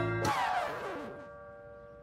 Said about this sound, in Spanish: Suena el timbre, princesa.